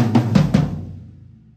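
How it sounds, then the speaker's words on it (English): Toms are struck in a quick descending fill of three hits, close and fairly loud, with the last hit ringing out and fading over about a second. "which is just a normal descending fill"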